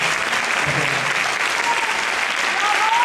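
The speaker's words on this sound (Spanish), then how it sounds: "Un fuerte aplauso para María." An audience applauds a flamenco dancer on stage with a brief, dense burst of clapping throughout, and a voice comes through faintly.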